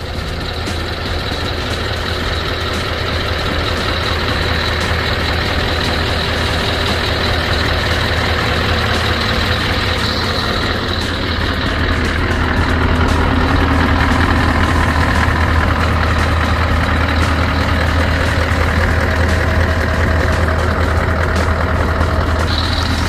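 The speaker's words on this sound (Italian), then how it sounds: "Se facciamo parlare un attimo il motore. Scania V8 560 cavalli" A Scania V8 560 hp truck engine idles in a steady, continuous low rumble with a faint high whine, close and unchanging throughout, with no talking.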